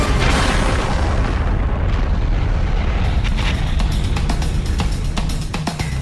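A burning styrene tanker explodes with a massive, sustained roaring blast that fills everything, followed by crackling pops and debris bursts as the fireball continues.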